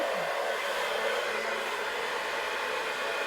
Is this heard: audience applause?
no